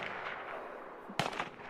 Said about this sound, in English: there's lots of gunshots still happening in the distance.